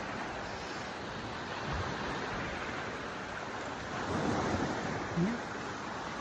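Waves wash against a lake shore under steady wind noise, with a soft rise in surf midway and a faint voice near the end.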